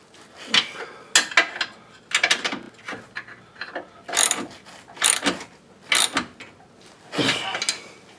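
A hand ratchet wrench turning a control arm bolt on a 1994 Saab 9000, heard as repeated short bursts of clicking pawl ratcheting, loud and close, separated by brief pauses.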